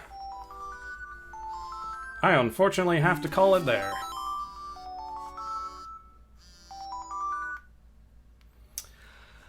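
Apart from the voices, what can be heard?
alarm ringtone going off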